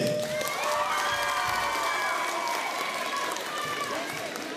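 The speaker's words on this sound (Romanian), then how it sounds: "Haideți să-i susține cu niște aplauze!" A school freshman ball audience claps and cheers; continuous applause mixed with shouts and whistles from a crowded hall, sustained and even throughout.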